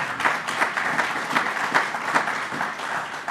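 An audience at a rural communities event gives a short round of applause, steady and fairly close, with dense clapping that pulses slightly but never drops out.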